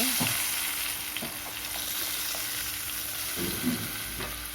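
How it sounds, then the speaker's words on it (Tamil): Tamarind extract goes into a hot pan for puliyodharai, giving a steady frying sizzle with a few stirring scrapes and a brief louder bubbling burst near the end. "இந்த புளி கரைசலை கொஞ்சம் ஊற்றிக்கோங்க."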